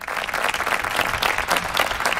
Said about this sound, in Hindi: लोगों ने तालियों से उनकी सत्यता को सराहा